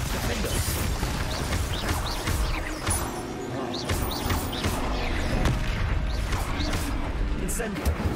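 Spell blasts and impacts from combat in the Hogwarts Legacy video game, a dense, continuous run of whooshing bursts, crashes and creaks filling the whole stretch, with voices shouting over the action.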